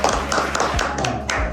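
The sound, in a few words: clapping for sister's birthday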